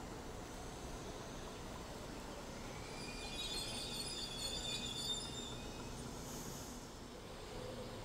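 A Sydney train pulls out of Strathfield station with a continuous low rolling rumble and high, drawn-out wheel squeals sliding across the platform, fairly distant and steady.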